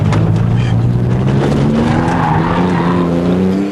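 A car slides sideways with a loud, sustained tire squeal over a steady engine note, close and continuous throughout.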